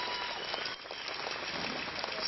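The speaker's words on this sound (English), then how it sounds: "Round of applause for yourselves." A protest rally crowd in Sydney claps for itself, with a short, fairly faint burst of dense clapping heard from a distance.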